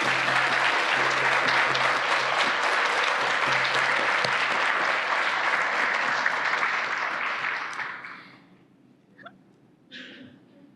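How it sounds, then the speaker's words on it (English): An audience at a celebration event gives a round of applause: a long, dense wash of many hands clapping that holds strongly, then fades out near the end, leaving a few scattered faint sounds. "if we can all give a round of applause for them"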